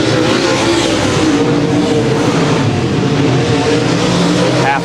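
A-Mod race cars roar around a track in a dense, continuous, loud engine drone that holds steady throughout, with no talking.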